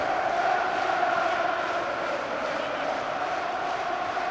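Steady crowd roar from Motherwell supporters in a stadium during the 2018 Scottish Cup semi-final replay against Aberdeen, a continuous cheering wash with no distinct peaks, some voices mixed in.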